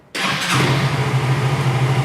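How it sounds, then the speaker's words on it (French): A Yamaha Tricity three-wheeled scooter engine starts with a sharp catch, then settles into a steady, close idle for about two seconds, alone without talk. "je vais appuyer sur le frein gauche ou le frein droit et en même temps le bouton de démarrage"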